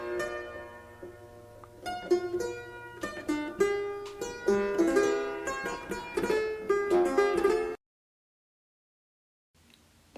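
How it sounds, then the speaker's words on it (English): A clavier, a string keyboard instrument, plays a lively melody with dense plucked harmonic notes for about eight seconds, then stops abruptly into near silence before a faint return at the end. "A clavier sounds like this."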